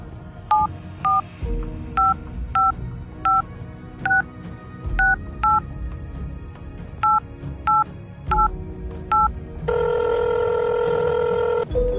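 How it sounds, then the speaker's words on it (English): A telephone number is dialed on touch-tone keys, a steady run of clear, evenly spaced beeps over a soft music bed, ending in a sustained ringing tone. "she took the telephone and dialed a number"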